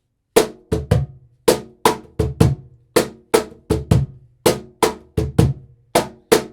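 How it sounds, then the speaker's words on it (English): A cajon plays a high, low, low, high percussion rhythm, its sharp slaps alternating with deep booming bass thumps in a steady repeating pattern, close and solo. "So if I want to play that rhythm on the cajon"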